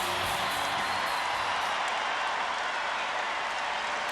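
A packed arena crowd of over 17,000 at an NCAA volleyball championship match applauds and cheers for the Nebraska Huskers, a dense, steady roar of clapping heard alone without talk.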